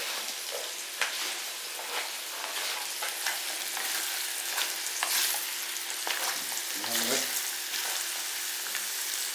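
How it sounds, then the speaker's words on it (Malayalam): Carrots for a carrot pickle fry in hot oil while being stirred, producing a continuous soft sizzle broken by scraping and clinking stirring strokes, moderately close and without talk. "എണ്ണ നല്ല ചൂടല്ലേ. അപ്പോൾ ഇനി ഇതിലേക്ക് നമ്മുടെ ക്യാരറ്റ് ഇട്ട് കൊടുക്കാം."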